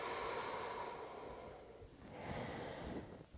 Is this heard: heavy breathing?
yes